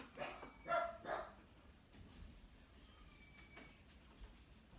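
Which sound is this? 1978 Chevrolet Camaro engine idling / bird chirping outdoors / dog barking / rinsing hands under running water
dog barking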